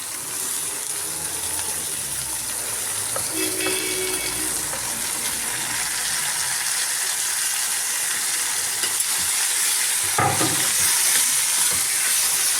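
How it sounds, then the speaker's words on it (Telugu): Tomatoes frying in a hot pan, a steady close sizzle with a spoon stirring and scraping through them, and a louder wet burst of hissing near the end. "టమాటాలు వేసుకుని బాగా కలుపుకుందామండి."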